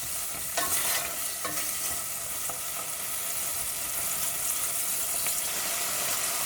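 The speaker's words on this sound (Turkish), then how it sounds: "Şöyle iyicene kavuruyoruz." Ground meat sizzles steadily in hot oil, a constant bright crackle with occasional scraping stirs, close and fairly loud, no voices.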